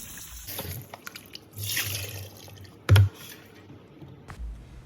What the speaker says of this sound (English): go ahead and add in water and then rinse it off